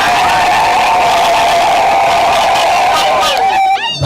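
A church congregation at a new parish commissioning cheers and ululates in sustained jubilation, a dense, loud wall of voices holding a high trilling tone before a single voice breaks in at the end.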